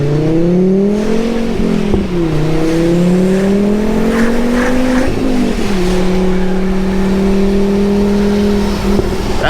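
Volvo V70R engine pulls hard under an overpass, its loud, close harmonic drone climbing in pitch through each gear before a shift drops it back, repeated three times with no talking.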